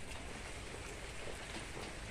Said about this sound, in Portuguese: E está chovendo muito.